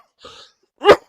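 A single harsh cough bursts out near the microphone, short and loud, after a brief faint throaty sound and silence.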